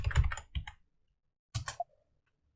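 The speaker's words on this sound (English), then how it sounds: "press enter, enter the user password" A password being typed on a Mac computer keyboard for a MySQL user login: a quick cluster of close key taps, a pause, then a few more clicks ending with a sharper keystroke, with no speech.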